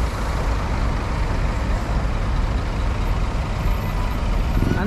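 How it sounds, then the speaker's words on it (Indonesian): Buses queuing at a terminal exit in Makassar, a loud continuous low engine rumble from heavy diesel vehicles idling and creeping close by, with faint air brake hiss, steady throughout with no talk. "Antri bus di pintu keluar."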